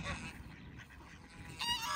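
Faint geese honking in the distance over a broad outdoor hiss in New Zealand, with a few clearer honks near the end.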